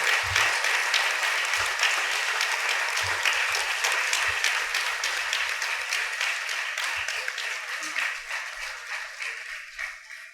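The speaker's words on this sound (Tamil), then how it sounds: "நீங்கள் எல்லாருமே ஒரு கரகோஷம் கொடுத்து அந்த பிரசங்கத்தினுடைய குவாலிட்டி சொல்லுங்க" Listeners at a Tamil discourse on the Srimad Bhagavatam's Rukmini Kalyanam applaud for about ten seconds, a sustained, even round of clapping that slowly tapers, with faint low thumps beneath it.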